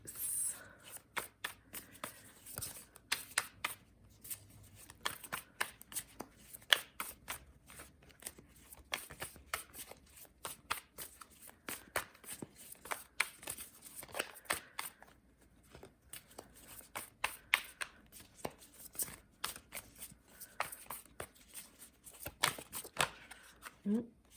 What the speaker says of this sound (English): they're having me shuffle a lot today.